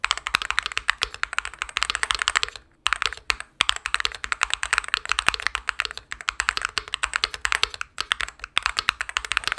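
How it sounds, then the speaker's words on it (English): Fast, continuous typing on an MCHOSE Ace68 Turbo mechanical keyboard, close and clacky, with crisp irregular keystrokes and a couple of brief pauses, no talking. "like a clackier sounding keyboard."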